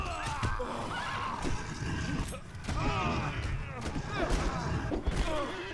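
Horse neighing in the video game Conan Exiles, whinnies rising over a busy game soundscape of thuds and clatter, with a voice talking over it.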